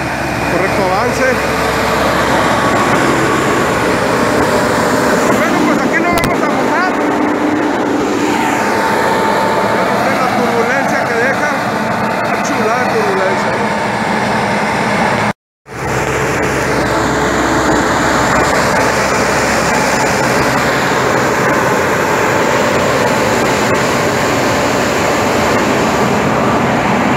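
A Farmall N95 Case IH tractor on radial tires pulls a 600-gallon sprayer through an orange grove, giving a steady, close engine drone with a brief dropout midway, while someone talks over it.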